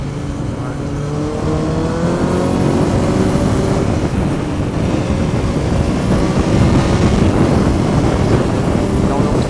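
A 2003 Kawasaki Z1000 motorcycle accelerates hard on a road trip, its engine note climbing through rising sweeps into a loud, sustained roar with wind rush, while a rider speaks over it.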